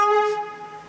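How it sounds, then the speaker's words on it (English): An ambulance horn honks loudly in a Chicago street, a single tonal blast that sounds strong at first and then fades over about a second. "that ambulance just honked really loud"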